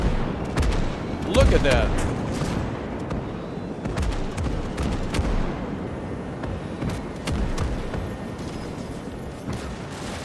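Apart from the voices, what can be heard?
creeping artillery barrage in a Desert Storm video game mod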